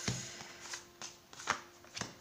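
Tarot cards shuffled by hand during a love-message card reading, giving a run of quick, near papery riffles and slaps at an uneven rhythm, fairly faint with no talking.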